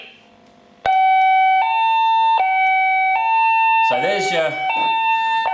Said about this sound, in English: there's your intruder alarm, okay?